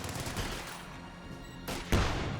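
MG42 machine gun fire in a Company of Heroes 2 battle, heard as a few short sharp bursts toward the end, with steady game ambience underneath.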